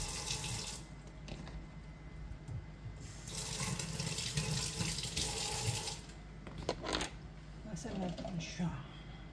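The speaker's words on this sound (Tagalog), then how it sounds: "hugasan natin" Tap water runs steadily over ingredients being washed in a kitchen sink for a spleen tea, a continuous splashing hiss with brief clatter, while someone speaks over it.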